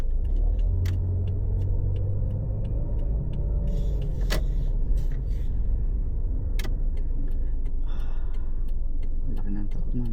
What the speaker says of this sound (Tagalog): Laki ng truck nun ah.